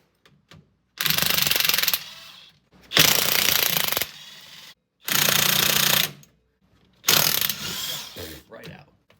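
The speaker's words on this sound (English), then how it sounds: "1/2-inch drive, 20 volt, lithium ion, impact." A 20-volt lithium-ion cordless 1/2-inch drive impact wrench hammers driveshaft bolts loose on a 6.7 Powerstroke truck, firing four loud, close, rattling bursts of about a second each, separated by short pauses.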